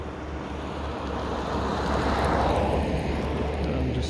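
A 3D-printed RC plane in flight, its motor droning steadily at a distance over wind noise, growing somewhat louder as it passes closer midway.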